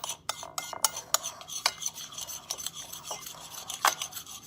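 A spoon briskly stirs a protein puppy chow coating mix with butter extract and a pinch of Himalayan pink salt in a bowl, making rapid uneven clinks and gritty scraping strokes close up, without speech.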